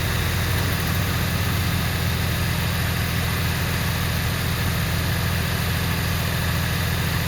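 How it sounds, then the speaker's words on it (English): A 2018-or-later Honda Gold Wing motorcycle engine idles steadily and evenly, a continuous low rumble that holds without revving throughout. "if I screw this dipstick in and start the bike"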